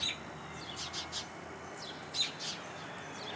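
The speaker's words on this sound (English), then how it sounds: "The robins are throwing quite the fit right over my head." Robins call agitatedly from directly overhead outdoors in early morning, a few sharp chirps in two quick bursts, moderately close over a quiet background hiss.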